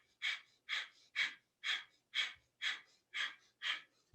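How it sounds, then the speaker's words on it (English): Breath of fire in a Kundalini yoga session: nine quick, forceful nasal breaths in a steady even rhythm, each a short airy puff, close and clear with no talking. "So we're going to go up and down with breath of fire."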